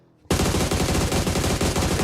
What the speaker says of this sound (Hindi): गोलियां चली उनके द्वारा जरूर